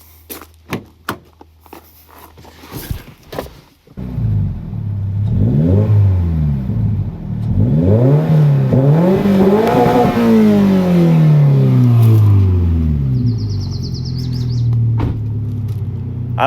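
A 2022-or-later Subaru BRZ or Toyota GR86 sports car with an axle-back exhaust starts and revs repeatedly, rising and falling in loud throaty bursts before settling into a rumbling idle.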